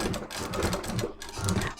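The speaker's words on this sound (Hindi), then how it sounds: "कैनवास के बाहर तरफ से सिलाई लगा देंगे" A sewing machine runs steadily as it stitches a net blouse back-neck design along the outer edge of canvas, a continuous close rattling whir with slight surges in speed.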